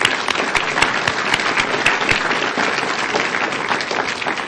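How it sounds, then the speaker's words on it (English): Audience applause in Round Rock, Texas, honoring the Partners in Education Foundation: steady, close clapping from a sizable crowd that continues at an even level for several seconds. "I think that right there is worth applause."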